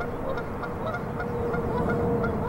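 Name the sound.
geese honking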